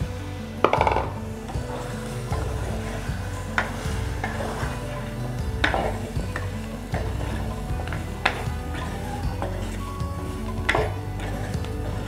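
Pumpkin curry stirred in a pan, with repeated clinks and scrapes of the utensil against the pan over a low sizzle, fairly close and steady with no talk.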